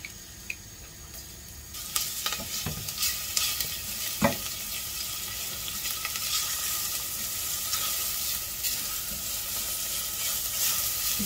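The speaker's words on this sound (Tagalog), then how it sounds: "Igisa ang bawang." Garlic sautéing in oil sizzles steadily and close up, with a spoon or spatula scraping and stirring the pan now and then, a continuous frying hiss throughout and no talking.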